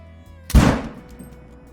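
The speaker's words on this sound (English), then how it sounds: "we'll go ahead and kill one more just so we can listen to this amazing gun once again" A single loud rifle gunshot rings out in a hunting video game, a sharp crack with a booming tail that fades over about half a second in a quiet outdoor scene.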